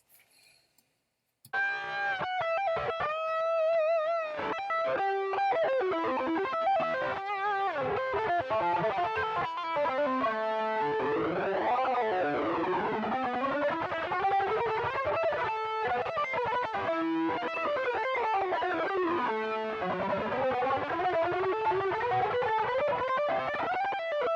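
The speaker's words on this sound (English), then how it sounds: "Now we're going to add enough distortion to play lead." A distorted electric guitar plays a fast lead line with sustained, gliding notes, loud and continuous after a brief quiet start.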